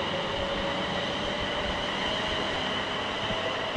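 A Class 350 electric train at Milton Keynes Central station, on a Birmingham New Street service, gives a steady, fairly loud rumble and hum that holds evenly throughout with no voices.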